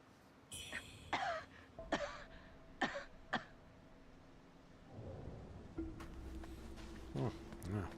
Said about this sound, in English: Please don't cough on me.